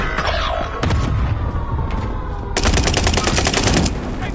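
Rapid gunfire in the battle royale video game Apex Legends, loud close bursts of shots with a sustained automatic volley near the end.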